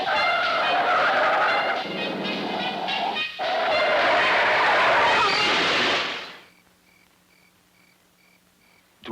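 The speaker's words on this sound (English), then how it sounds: "To avoid the other car, I skidded, lost control, and turned over" A car skids at an intersection while swerving around another car, then loses control and turns over: a loud, sustained screech and rumble of tyres that cuts off abruptly, leaving near silence with a faint hum.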